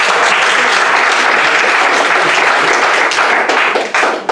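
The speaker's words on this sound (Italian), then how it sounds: "facciamo un applauso" A loud, dense wave of audience applause fills a public talk on violated rights, many hands clapping continuously and close, with no speech on top.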